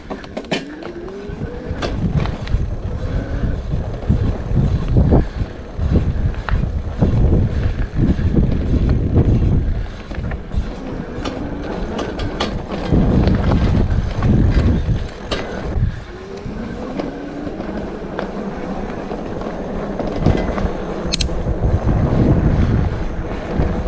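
Riding an ENGWE Engine X folding fat-tyre e-bike outdoors: steady, loud wind buffeting across the microphone throughout, with rolling road rumble and occasional gusty swells, no talking.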